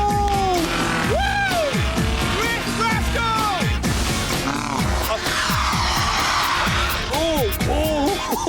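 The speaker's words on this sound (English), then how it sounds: "I'm drifting a Bedford Rascal!" A Bedford Rascal microvan drifting on a track, with tires squealing in wavering, repeated skids over a revving small engine, while someone shouts excitedly throughout.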